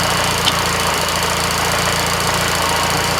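An Austin Seven engine idles with its geartrain audibly busy, a steady, close, loud mechanical clatter and hum that holds level throughout with no speech.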